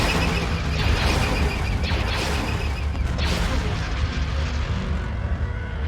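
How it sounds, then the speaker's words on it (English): Ion cannon fire in the space strategy game Star Wars: Empire at War, a dense, loud roar of heavy booming blasts and mechanical rumble that holds steady for several seconds with sharper bursts near the middle. "Ion cannon firing."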